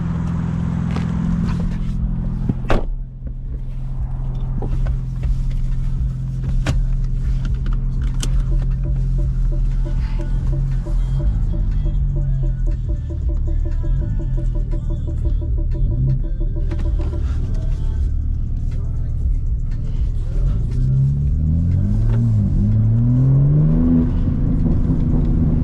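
A car drives along with a steady engine hum and road whir throughout, the engine rising briefly as it accelerates near the end, with no talking.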